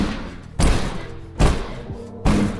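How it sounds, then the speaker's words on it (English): Heavy banging on a front door, three loud separate thuds spaced under a second apart, each booming close with a short low resonance and quiet between. "So that noise you heard, the banging,"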